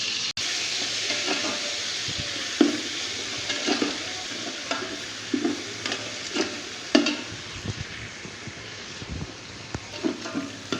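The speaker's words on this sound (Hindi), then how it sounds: "और अब इसको अच्छी तरह से भून लेते हैं।" Tomatoes with garlic-ginger paste and green chillies sizzle and fry steadily in a pan, with repeated scraping and stirring strokes punctuating the hiss.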